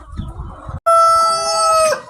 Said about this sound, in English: That is our young roux we're using right now. His name is Soda Pop. He's a big red rooster